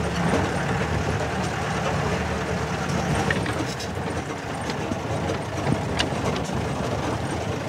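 A forest safari jeep grinds up a steep off-road riverside track, its engine droning steadily and loud throughout with rumbling low end and occasional clanks and rattles from the rough ground.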